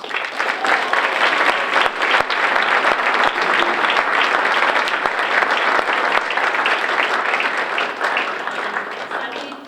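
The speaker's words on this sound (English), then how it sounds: "Let's have a round of applause for Dr." An audience at an academic recognition awards program claps steadily for nearly ten seconds, a loud dense roar of many hands with a few sharper individual claps standing out near the start.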